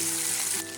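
Marinated prawns fry over medium heat in a short, close hiss of sizzling oil that dips slightly in loudness toward the end.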